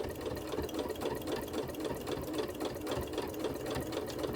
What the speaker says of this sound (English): I'm going to put my presser foot back down, and then I'm going to sew again